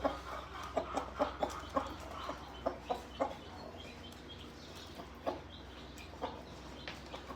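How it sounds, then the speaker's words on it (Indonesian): Shamo breeding hen clucking in a coop, a run of soft repeated clucks at an uneven rhythm over a low steady hum, fairly close and moderately quiet, with no talking. "Ini indukan dari ayam Shamo kita."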